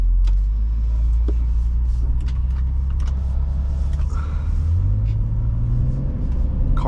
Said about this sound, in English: The inline six sounds great.